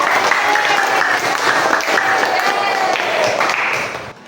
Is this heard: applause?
yes